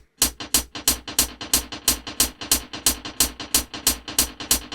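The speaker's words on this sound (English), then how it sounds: "all I really added to the drums was some delay, which is some echo on the hi-hats" Hi-hats treated with a delay echo in a produced hit song play as a fast, even stream of bright ticks, each trailed by soft repeats over a low pulsing beat, fairly quiet and with no talking.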